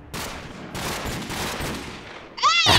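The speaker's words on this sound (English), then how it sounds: "Stop shooting!" Gunshots in a Minecraft mini game ring out in quick bursts of sharp cracks, followed at the end by a brief rising electronic chirp.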